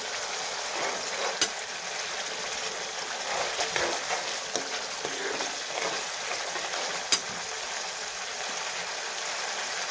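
Oil crackling in a pan of spices with fresh coriander for a soybean masala dish, a steady close sizzle with two sharp pops standing out, and no one talking.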